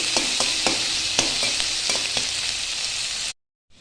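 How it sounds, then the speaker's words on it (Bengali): Chopped onion frying with garlic in a pan, a loud steady sizzle with repeated soft scraping strokes of stirring, cutting off abruptly near the end. "রসুনের সঙ্গে আমি পেঁয়াজকে ভালো করে ভেজে নেব।"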